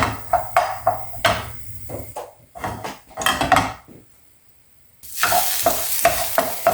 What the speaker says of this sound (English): So I'm just started a few onions off.